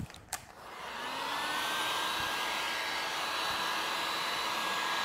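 A heat gun warming Avery Dennison gloss rock gray vinyl wrap on a Cybertruck blows with a steady close whooshing roar that swells up after a brief click at the start and then holds evenly, with no talking.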